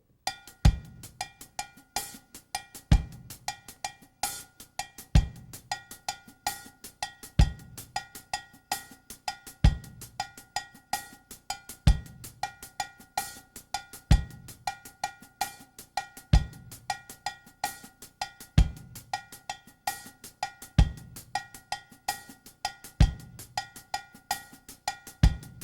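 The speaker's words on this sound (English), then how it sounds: "I start, then I add bass drum and some hi-hat footnotes, or open hi-hat, things like that" A drum groove: a cowbell keeps a clave pattern over a thumping bass drum and light hi-hat footnotes, a steady repeating funk rhythm, close and clean, with no voices.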